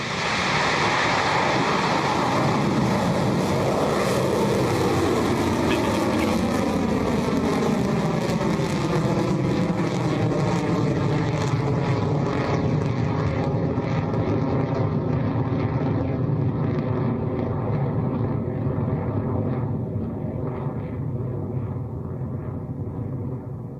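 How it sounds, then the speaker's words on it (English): A Rocket Lab Electron rocket lifting off from a New Zealand launch pad on its 64th mission, a continuous loud broadband engine roar that slowly dulls and recedes as it climbs away. "Our 64th mission, the Sea God Seas, has left the launch pad"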